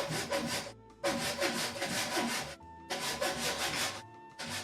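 A handsaw cutting through lumber for a woodshed build, in rhythmic rasping strokes, three long pushes broken by short pauses, close and clear with no talking.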